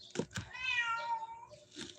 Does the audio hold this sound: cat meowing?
yes